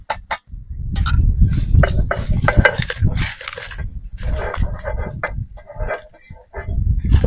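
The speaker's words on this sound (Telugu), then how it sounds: "ఇప్పుడు రోట్లో వేసుకుని బాగా మెత్తగేంత వరకు అయితే దంచుకున్నాము" Repeated irregular pounding of a bitter gourd mixture in a stone mortar during village cooking, dull thuds with gritty crushing and occasional clinks, close and fairly loud with short pauses between strokes.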